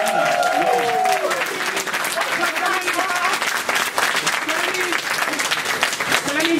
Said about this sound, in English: So I need y'all to clap because we raised 400.